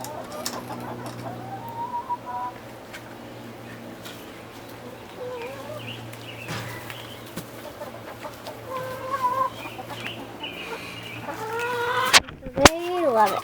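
Chickens cluck and chatter around fresh sprouted fodder, several birds close by with scattered calls building toward a louder burst near the end, a few quiet voices mixed in.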